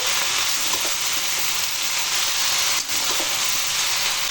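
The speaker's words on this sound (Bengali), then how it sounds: "আবার কিছুটা নাড়াচাড়া করে দেবো" Chopped bottle gourd leaves cook in a pan under a loud, continuous frying hiss, with a brief scrape of stirring partway through and no voices.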